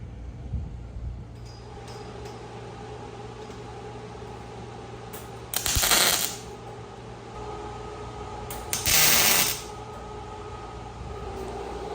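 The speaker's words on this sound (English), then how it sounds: "I'm gonna rip that plate off, mark out where I want all these tabs put down, and we'll get to welding." Wire welding tabs onto a steel plate during trail-rig cargo and storage fabrication: two separate bursts of welding crackle, each lasting under a second, stand out over a steady low shop hum, fairly close by, with no speech.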